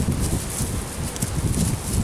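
Hooves of a calm, well-conditioned bay horse clip-clop steadily on the ground close by, mixed with soft rustling and no talk.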